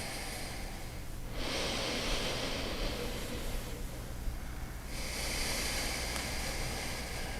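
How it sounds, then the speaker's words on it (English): Slow yoga breathing through the nostrils, close and intimate: a long airy inhale, a pause, then another drawn-in breath, with each soft nasal rush rising and fading over a quiet room. "Breathing through the nostrils."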